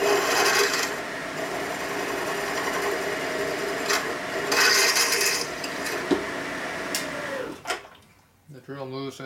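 A steady mechanical whir with grinding and rasping as a drill press bores into the metal engine case of a 1972 Harley-Davidson Sportster Ironhead, running close and continuous before winding down at the end.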